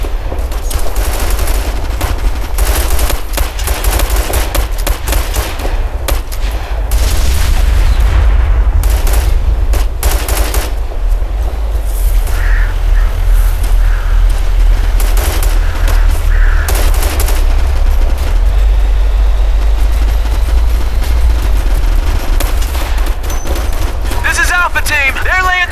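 Dense, loud video-game gunfire from Operation Flashpoint: Red River: sustained machine-gun bursts and rifle shots overlapping almost continuously, with booming reports and a brief voice heard over the battle.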